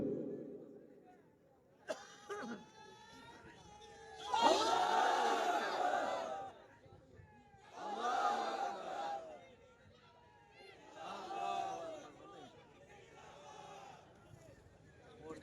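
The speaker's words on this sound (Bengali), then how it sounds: "মাঝখান থেকে একবার দাঁড়িয়ে নারায়ে তাকবীরের আওয়াজ তুলে পুরা ময়দানকে প্রকম্পিত করে তুলুন" A large crowd at an Islamic cultural gathering shouts the Nara-e-Takbir battle cry in three loud, surging bursts, each swelling and fading, with a sharp knock before the first and low murmuring between the shouts.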